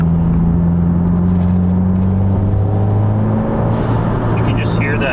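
A 2022 Subaru WRX fitted with a Perrin intake accelerates under light throttle. A steady, close engine drone sits under a rushing surge of intake air, and a voice is heard over it.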